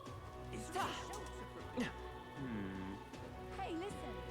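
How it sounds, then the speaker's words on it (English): Rain falling steadily in the Metaphor: ReFantazio video game, a constant soft patter under several spoken lines from game characters. "Oh, I hate the rain."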